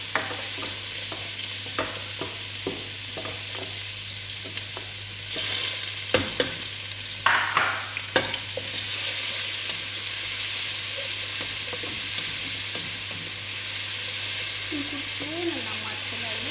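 Onions fry in Ethiopian table butter, a continuous close sizzle and hiss with repeated clattering stirs and scrapes of a utensil, and a voice briefly heard near the end.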